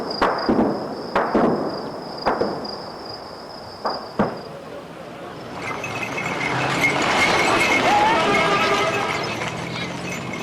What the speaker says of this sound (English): A country where the night still rocks with the sounds of gunfire.